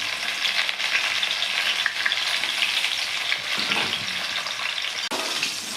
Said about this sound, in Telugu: ఉల్లిపాయ ముక్కలు, మూడు పచ్చిమిర్చి అండి,